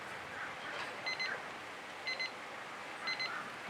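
A kitchen-style timer goes off during an acrylic paint pour, sounding three short bursts of rapid high beeps about a second apart over a quiet, hissy room.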